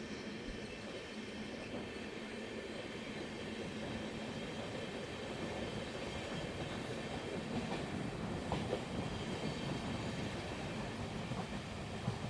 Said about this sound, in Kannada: ಸುಮಾರು 3 ನಿಮಿಷ ಹಾಲ್ಟ್ ನಂತರ ನಮ್ಮ ಟ್ರೈನು ಮಂಡ್ಯದಿಂದ ಹೊರಟಿದೆ